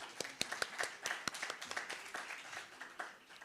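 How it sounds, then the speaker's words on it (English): Scattered, fairly quiet clapping from a modest audience at a commemorative panel event, individual hand claps distinct and irregular rather than a full roar, thinning slightly toward the end. "I think she deserves another round of applause"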